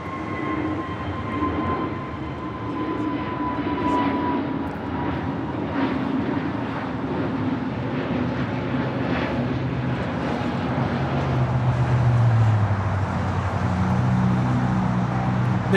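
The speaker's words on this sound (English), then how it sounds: "This is Avianca 641 taking off to Guatemala City on an A320 Neo." Avianca Airbus A320neo jet taking off from LAX, a steady distant engine roar holding constant and swelling slightly toward the end, with no voices.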